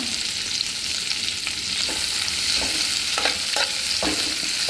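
Capsicum stir-fried in a hot pan for a spicy beef chilly dish, giving a bright continuous sizzle with scattered spatula scrapes and stirs, close up and steady throughout, no voices.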